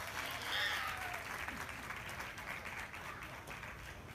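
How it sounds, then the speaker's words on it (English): A crowd at a youth swine show applauds the reserve champion Hampshire exhibitor, steady clapping from a fairly distant audience that swells early and then slowly fades. "Let's give this young lady a nice round of applause for having reserve champion."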